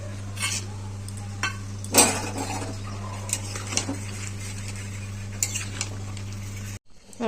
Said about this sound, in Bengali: এবার বড়িটাও দিয়ে দেবো